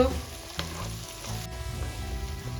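Capsicum sautéing in a pan for street-style pav bhaji gives a steady, close frying sizzle with occasional stirring scrapes. The sizzle runs throughout without talk, over a faint tonal background.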